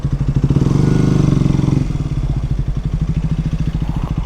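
Motorbike engine idling at a McDonald's drive-thru, a steady close pulsing chug throughout with a slight dip in pitch partway.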